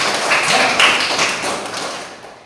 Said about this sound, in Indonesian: Oke, tepuk tangan untuk Dino.